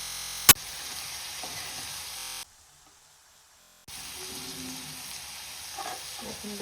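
Potatoes fry with coriander leaves in a pan for a Bengali aloo bhaji, giving a steady close sizzle that drops out briefly and then returns, with a sharp click near the start.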